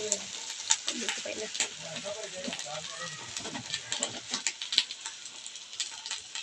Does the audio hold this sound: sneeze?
no